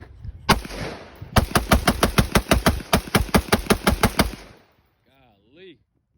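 Magazine dump at a shooting range: one sharp shot, a short pause, then a rapid string of about fifteen loud, evenly spaced close gunshots that stop abruptly, followed by a brief faint voice.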